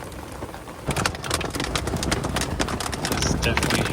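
Hail pelts rooftop tents in a thunderstorm in the Wyoming backcountry, a dense irregular rattle of sharp close impacts that grows heavier over a few seconds.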